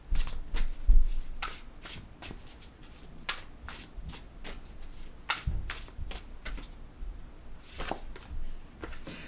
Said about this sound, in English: Let's pull 2 more cards from the shaman stream